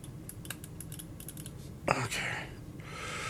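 Quick, crisp snapping clicks from a Pwnage Stormbreaker Max gaming mouse, a cluster of close, light taps followed by softer rustling and handling noise.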